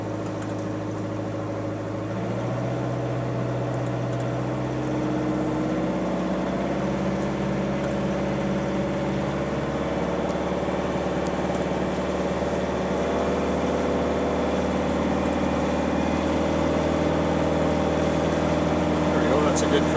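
A diesel trawler's engine cruising at 2,600 RPM gives a steady low drone with a layered harmonic hum that rises slightly about two seconds in, then holds evenly and close throughout.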